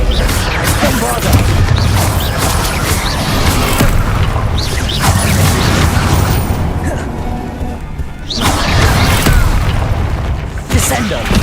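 Bombarda blasting spell explosions in Hogwarts Legacy, a run of loud booming blasts and crashes repeating through the scene, with voices talking over them.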